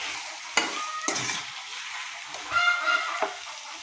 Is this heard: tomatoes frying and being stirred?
yes